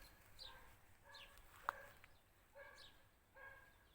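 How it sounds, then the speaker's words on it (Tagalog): A dog on a farm barks several times, faint and some distance off, in short separated bursts over quiet outdoor background. "Yung asong antipatika, tahol ng tahol."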